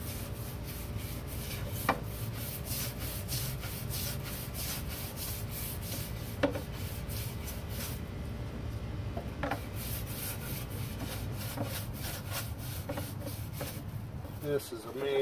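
Teak wood trim on a 1977 Boston Whaler 21 Outrage boat is scrubbed in steady, rhythmic back-and-forth strokes, close and continuous with a few sharper knocks.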